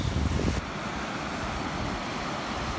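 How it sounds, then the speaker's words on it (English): Strong incoming tide breaking on the Northumberland coast, a steady broadband wash of surf with wind noise buffeting the microphone, loudest in a thumping gust at the start, then a continuous rushing roar. "Tide's coming in quite strong now."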